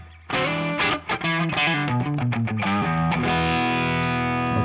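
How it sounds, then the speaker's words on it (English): Electric guitar played through ToneX with an edge-of-breakup amp tone and room reverb: a string of plucked notes and chords, then a final chord left ringing into the reverb tail, loud and alone. "I want to create something that's like edge of breakup tone with a reverb"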